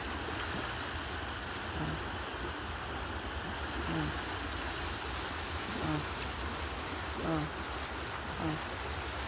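Steady broadband rush of flowing river water, continuous and fairly distant, with faint faraway chirps over it.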